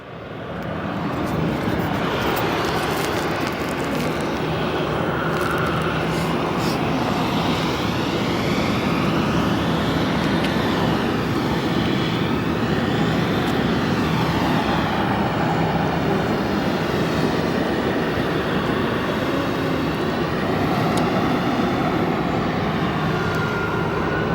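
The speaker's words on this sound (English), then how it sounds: "First departure, we got United 1637 going to Denver. So 737-900, 10 years old." A ten-year-old United Boeing 737-900 bound for Denver departs Phoenix Sky Harbor, its jet engines producing a loud, sustained roar that holds steady for over twenty seconds with no talk.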